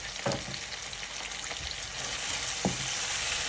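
Liver frying in a pan with garlic, garam masala, tomato and salt, a close, steady sizzle broken by a few stirring scrapes and knocks.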